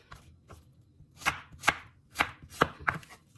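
A knife chopping apples on a cutting board in a home kitchen: about seven or eight crisp, close knocks at an uneven pace, louder in the middle, with no talking.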